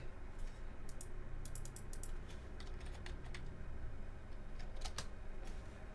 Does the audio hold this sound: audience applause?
no